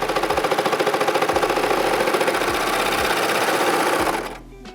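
A serger whirs in a fast, steady mechanical rhythm, loud and close, stitching two fabrics together, then abruptly winds down and stops near the end.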